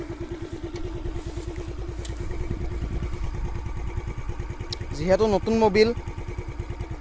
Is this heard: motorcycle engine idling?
yes